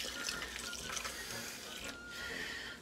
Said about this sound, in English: Now we're going to cover the rest with H2O.